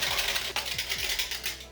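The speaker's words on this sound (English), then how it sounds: "And then just give this a good whisk," A whisk beats yeast into water in a bowl, giving quick rhythmic metallic clicks and swishes close up, with no talking.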